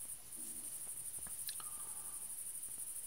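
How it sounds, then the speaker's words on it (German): Crickets chirping in the background of a quiet indoor setting, a faint, steady high-pitched trill running continuously through the whole stretch with a few soft incidental noises, no talking. "Zirpende Grillen und so."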